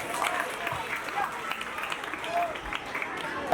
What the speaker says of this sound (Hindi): भाई इनके लिए एक बात ताली बजती है